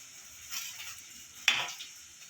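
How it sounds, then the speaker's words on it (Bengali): Crushed garlic cloves tipped into a hot pan of soya chunk curry give a quiet sizzle and stir, with a sharper clatter midway as they land, then a softer fading fry. "এবার দেবো এই থেতো করা যে রসুন 8-10টা কোয়া রেখেছিলাম সেটা দিয়ে দিলাম।"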